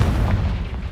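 A brief, heavy Confringo fire-spell blast from Hogwarts Legacy, a loud low booming burst that rumbles out in under a second.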